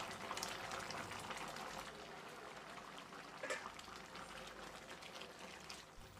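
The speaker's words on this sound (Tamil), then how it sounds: "இது நல்லா கொதித்து வந்துருச்சு." Steady, soft bubbling of thick mutton curry boiling in a pressure cooker, continuous and close, with faint pops throughout.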